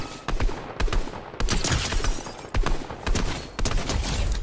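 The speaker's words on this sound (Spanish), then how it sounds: "por aquí también habían disparos, ¿no? Ahora mismo" Rapid bursts of gunfire in a Fortnite match fire loud and close, several volleys cracking in quick, uneven succession with brief gaps between them.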